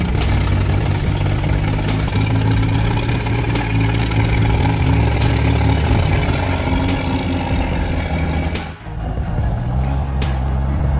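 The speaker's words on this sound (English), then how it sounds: "The wheels dug deep into the slushy mud, spinning helplessly, roaring hopelessly." A heavy truck engine strains in slushy mountain mud, wheels spinning, rumbling loudly and steadily for the whole stretch, with a brief dip near the end before the low roar resumes.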